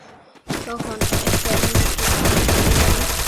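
Rapid bursts of gunfire in a video game crackle loud and close, starting abruptly after a brief quiet moment and continuing as dense, overlapping shots.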